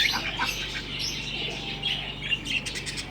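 Pigeons chirp and call in quick, overlapping bursts, with soft murmuring coos underneath, close by and continuous.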